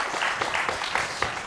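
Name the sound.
audience applause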